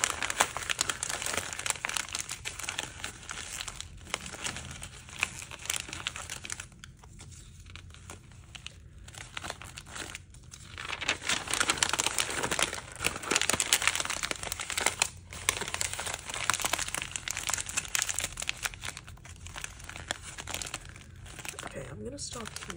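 Paper being crumpled by hand into a ball as a base for a clay face craft, a steady close crinkling and crunching that runs for the whole stretch with brief pauses, some of it alongside talk.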